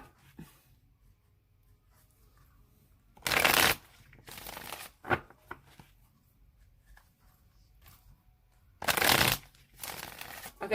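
A tarot deck being shuffled by hand, heard as several short, crisp riffling bursts separated by quiet pauses, fairly close and with no talking over it.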